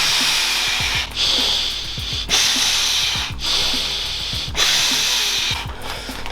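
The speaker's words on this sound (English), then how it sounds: "you can blow in there and it won't escape" Someone blows hard by mouth into the valve of a Trekology UL80 inflatable sleeping pad, making four long breathy gusts of rushing air, each lasting about a second or more with brief gaps between, close to the mic.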